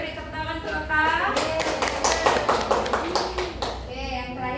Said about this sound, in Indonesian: Kita boleh beri tepuk tangan untuk Kak